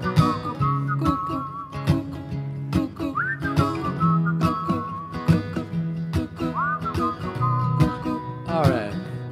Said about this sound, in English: Harmony whistling.